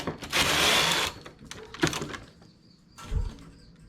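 A knitting machine carriage slides left across the needle bed at a high tension setting for a ribbed glove, giving a loud, sustained whooshing rasp followed by shorter clacks and mechanical knocks.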